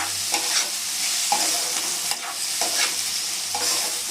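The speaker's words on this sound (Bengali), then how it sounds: "এটা লবণ আর হলুদ দিয়ে আমি একটু নাড়াচাড়া করে আমি এটা ঢাকা দিয়ে দিলাম" Fish curry with salt and turmeric stirred in a pan, a utensil scraping and knocking in a few uneven strokes over a steady soft sizzle of frying, close and moderately loud with no talking.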